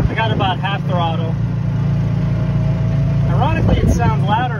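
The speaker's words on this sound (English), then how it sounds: "You can hear the generator rev up." Steady mid-pitched engine drone from the generator of an electric hybrid golf cart running at about half throttle while driving, continuous and moderately loud under intermittent conversation.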